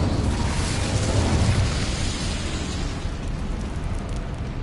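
Incendio fire spell cast in a Harry Potter video game: a loud, dense roaring burst of flame that flares up, then holds as a steady crackling rush for several seconds before easing slightly.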